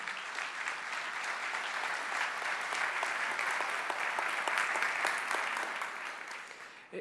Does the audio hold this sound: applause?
yes